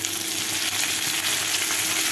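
A loud, continuous crackling sizzle of curry leaves frying in hot oil for a chutney, close up and steady, with no voices.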